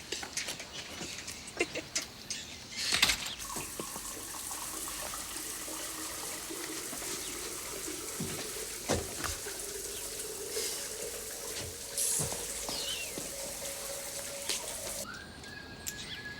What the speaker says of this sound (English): Nothing like a shower after a long, hard night.